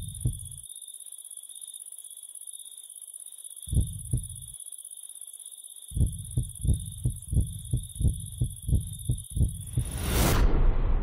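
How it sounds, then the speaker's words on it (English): Heartbeat of prey in an animated film: deep, muffled thumps, first in isolated doubles, then a quickening, steady run of about a dozen beats over a constant high electronic hum, ending in a rushing burst of noise. "She hears the heartbeat of her prey ring out."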